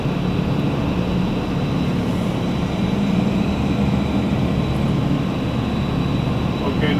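A 4,000 horsepower electric motor driving a large yellow air blower in a plant room, producing a loud continuous industrial roar with a steady low hum and even broadband rush, unchanging throughout.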